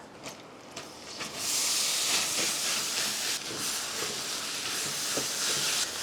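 Coconut meat being stir-fried in a thickened sugar syrup, heard as a strong, steady steamy hiss after a few soft clicks at the start, close and continuous with no voices.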